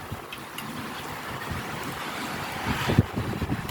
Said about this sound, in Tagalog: Ay, mahangin, sobrang hangin.